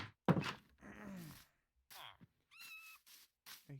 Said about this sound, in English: I hear kitties